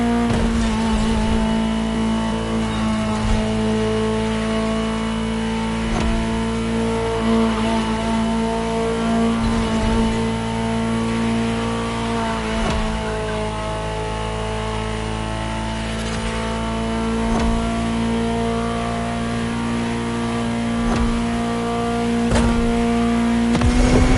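Ferrari supercar engine in Motorfest, a steady, loud mechanical drone with strong tonal harmonics running continuously, sustained and close, with faint shifts in pitch.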